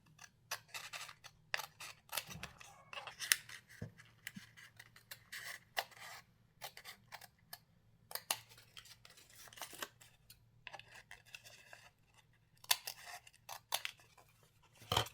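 Scissors snip through paper pattern pieces for a sewing project, a series of short crisp cuts in irregular bursts, close and fairly quiet, with no talking.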